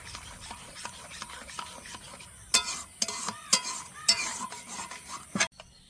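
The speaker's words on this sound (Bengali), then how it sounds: "আবারও ভালো করে মিশিয়ে নিচ্ছি।" Mango rasmalai mixture of bread and milk being stirred in a bowl, soft rubbing strokes at first, then several louder scraping and clattering strokes of a spoon against the bowl, close and without speech.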